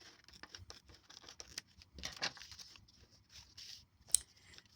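Scissors snip around a printed vinyl image, a quiet series of small crisp cuts and crinkles in an irregular rhythm, close by with no talking.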